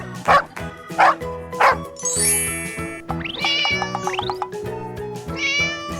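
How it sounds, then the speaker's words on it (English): A cartoon cat in a children's farm-animal song meows several times, with barking and chime-like effects mixed in over continuous music. "This is a cat."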